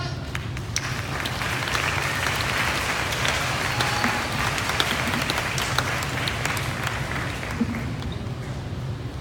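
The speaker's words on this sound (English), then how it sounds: "Please give her a big applause" Steady, moderately loud audience applause rolls on throughout, a continuous wash of many hands clapping with faint voices underneath.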